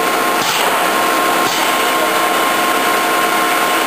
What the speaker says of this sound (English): Now we're up at 1220 RPM. This will be the highest RPM this machine is capable of. And it sounds real good.